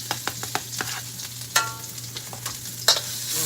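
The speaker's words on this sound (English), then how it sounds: "We're gonna take our ginger and our garlic, and we're gonna toss it on in." Ginger and garlic fry in a hot pan for General Tso's chicken, a steady sizzle broken by several sharp scraping stirs and clinks of the utensil, close and alone without talk.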